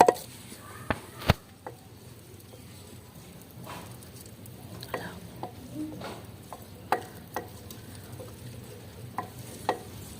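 Turnips and peas in a curry masala are mixed in a pot, with scattered scraping and knocking spoon strokes over a soft sizzle, a couple of sharper clanks near the start, fairly quiet and without talk.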